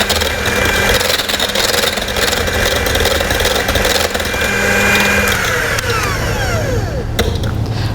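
An electric mixer whips egg whites with sugar toward stiff peaks for a chocolate mousse, giving a steady, loud, continuous whirring drone throughout.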